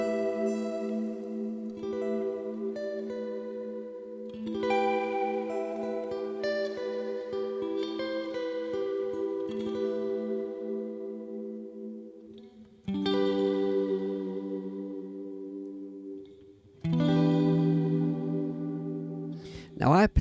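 Tones from a synth or guitar run through a lo-fi reverb effect on an iOS reverb unit, the sustained reverb tails grainy with artifacts and chorus-like shimmer across several phrases, some cut off abruptly.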